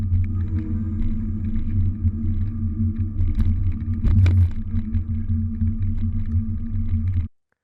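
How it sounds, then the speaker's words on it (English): Dualtron 3 electric scooter rolling on pavement: a steady, low rumbling tire drone close by, nearly motor-silent, with a brief rougher bump partway through before it stops abruptly. "About the only sound you hear is the wheels on the pavement."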